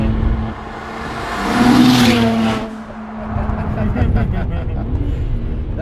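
An 830 whp BMW 335i runway racer revs at half throttle, its engine tone climbing in a sharp sweep, peaking, then falling back to a rumbling idle, with voices talking over it.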